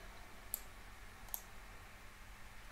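Two crisp, close mouse clicks about a second apart, made while setting up a Home Assistant integration, over a quiet room hum.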